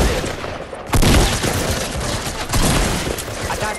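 Rapid pistol gunfire in the Fortnite video game, bursts of loud repeated shots with a heavy volley near the one-second mark, over a busy mix of game noise.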